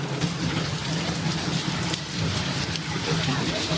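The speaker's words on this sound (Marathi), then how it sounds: "पाऊस काय थांबायचं नाव घेत नाहीये" Steady rain hisses down without pause, a dense wash of patter with a faint low rumble underneath.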